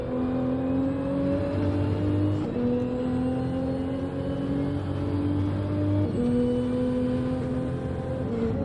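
Race car in Gran Turismo 7 at Brands Hatch, a loud engine droning steadily with pitch steps as gears change, running continuously with no talking.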